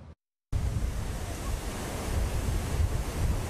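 Ocean surf breaking at a beach during the U.S. Open of Surfing, a broad continuous wash of waves with wind buffeting the microphone, starting after a brief silent gap and staying loud and steady to the end, with no talking.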